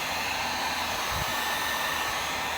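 A nitro RC car engine is being broken in and runs as a continuous, loud, high-pitched buzzing whine. The note stays steady throughout with no distinct revs and no voices.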